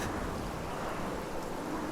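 Stormy rain and gusting wind in the video game Infinity Nikki, a steady, dense wash of rainfall with wind noise that holds evenly loud throughout, with no talk.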